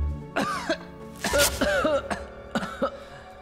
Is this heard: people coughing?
yes